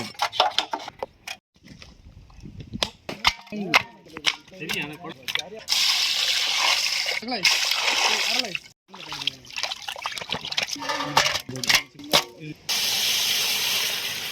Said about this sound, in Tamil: அரிய நல்லா கழுவி எடுத்துக்கலாம்